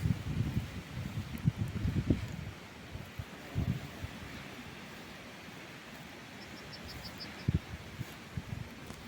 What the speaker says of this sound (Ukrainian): бо сьогодні вітер